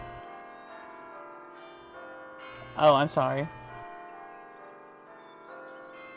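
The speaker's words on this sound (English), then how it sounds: "It's hard to hear over the bells" Bells ring in The Lord of the Rings Online, two loud overlapping strokes near the middle that ring out briefly over a steady background of game music, while a voice speaks quietly.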